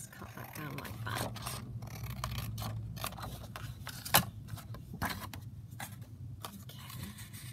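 Scissors snipping striped paper down to size for a junk journal tag, a run of short dry cuts and rustles with one sharper snip standing out, close and fairly quiet.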